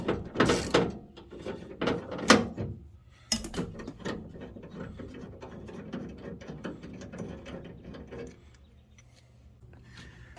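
A bolt comes off the door latch of a 1977 Ramcharger. Close metallic clicks and ratcheting turns, with a few louder clanks early on, then quieter fiddling sounds. No speech.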